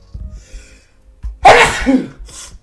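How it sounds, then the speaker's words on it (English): A single loud sneeze bursts out after a quiet intake of breath, close to the listener, followed by a short exhale. "I'm about to sneeze it one more time."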